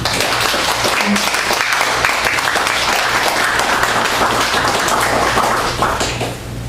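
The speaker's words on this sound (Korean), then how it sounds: "박수로 환영하겠습니다" Applause from a church congregation welcoming returning and new members, a dense, steady wash of many hands clapping close by that holds for several seconds before easing slightly at the end.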